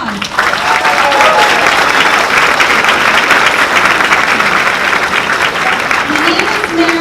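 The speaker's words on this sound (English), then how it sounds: "Can we have a round of applause?" Sustained applause from an audience at an evening town hall meeting hosted in a fire company hall in West Trenton, steady and full for several seconds.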